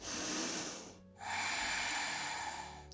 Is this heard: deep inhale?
yes